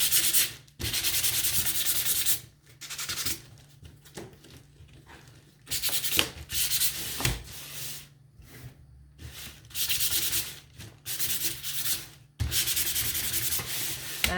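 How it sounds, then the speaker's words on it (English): Close hand sanding on painted wood: steady rasping strokes in several bursts separated by short pauses, vigorous and fairly loud. "so just give that a sand."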